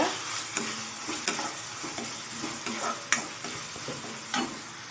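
Ginger garlic paste sautés in hot oil for a boiled egg masala, a constant crackling sizzle with scraping stir strokes and a few sharper clacks of the spoon against the pan.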